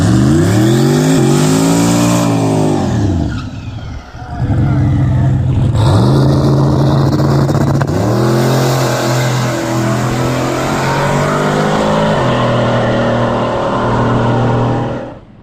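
A Ford GT500 races down a track, its engine loud and close, climbing through rising revs in repeated sweeps with a short dip near the middle before pulling hard again.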